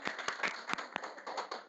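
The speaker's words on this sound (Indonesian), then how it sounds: "Tepuk tangan dong buat semuanya" A few scattered hand claps from students in a classroom, sharp and irregular, fairly quiet and over in under two seconds.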